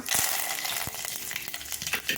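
Hot oil crackles and sizzles steadily, with sharp pops and spits as cumin, mustard seeds and curry leaves hit the pan for tempering, close and fairly loud with no voices.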